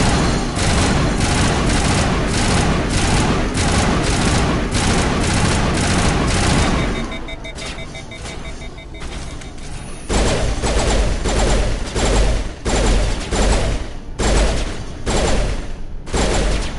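A weapon in Mass Effect firing three-round bursts, a dense run of loud, rapid shots close up, pausing briefly midway then continuing in quick clustered volleys.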